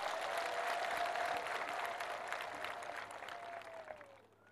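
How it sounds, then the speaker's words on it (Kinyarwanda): A church congregation claps for Jesus, a dense wash of applause from a crowd that is loud at first and gradually thins and fades away, with no voices over it. "Abanyumvise mumfashe dukomere Yesu amashyi."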